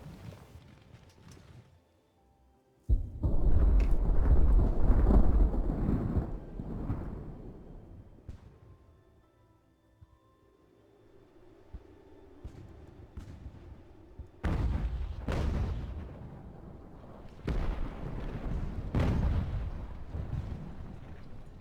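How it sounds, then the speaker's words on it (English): Artillery fire in an Ultimate Admiral: Age of Sail naval battle, with several loud booming bursts and rumbling impacts hitting a unit, separated by quieter stretches of low background noise. "3 artillery hitting that unit"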